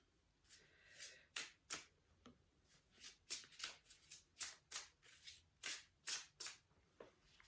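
Cards are shuffled in quick, crisp riffling bursts, a dozen or so sharp flutters in an irregular rhythm, close and fairly quiet, with no talking.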